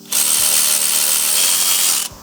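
A power tool whirs steadily for about two seconds, removing 13mm bolts from the clutch slave cylinder and bracket on a Porsche 996 during clutch replacement. It runs loud and close, with a short start and a clean stop.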